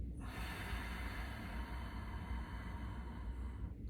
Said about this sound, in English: can I draw out this exhale?